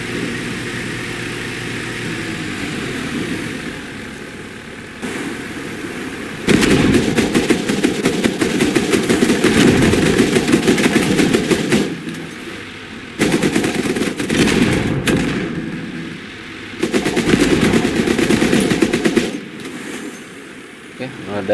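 Sustained bursts of rapid machine gun fire from a ship in the video game Age of Water alternate with engine rumble and game noise, the firing coming in long loud stretches with pauses between.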